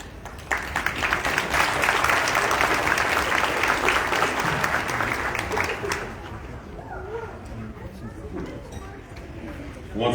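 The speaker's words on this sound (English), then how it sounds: "give them a round of applause for coming up here" Applause from the audience at a celebration-of-life memorial gathering, dense and steady for about six seconds before tapering into scattered claps and quiet room murmur.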